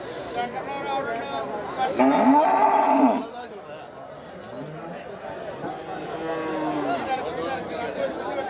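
Cattle at the Pollachi cattle market give a loud, drawn-out moo partway through, while people talk and chatter continuously around them.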